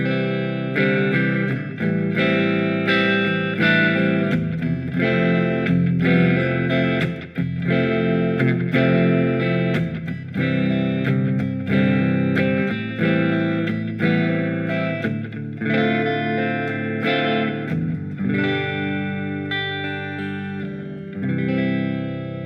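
Electric guitar on the neck pickup through a Fender Mustang LT25 amp set for a Les Paul tone, with delay and plate reverb, playing a continuous loud distorted riff with sustained chords and lead notes and no talk.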